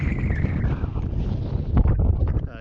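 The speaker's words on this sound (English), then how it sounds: "very, very windy, so apologies for the noise" Heavy wind buffeting the microphone on a Glyderau mountain ridge in snow and rain, a loud continuous low rumble with gusty surges throughout.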